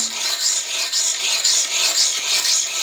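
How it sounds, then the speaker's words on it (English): A Pumie pumice scouring stick scrubs off water deposits in a steady gritty rasp, short rhythmic strokes of rubbing stone repeating back and forth at close range with no talk. "you can definitely feel as you run the stone across it"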